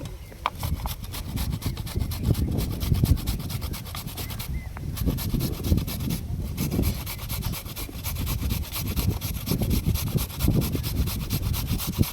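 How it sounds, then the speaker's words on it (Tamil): Peeled cassava root rubbed against a hand grater for cassava kozhukattai, a close, steady rhythmic rasping of quick repeated strokes throughout, no talking. "இதே மாதிரி எல்லா கிழங்கையும் நான் சீவிட்டு காமிக்கிறேன்"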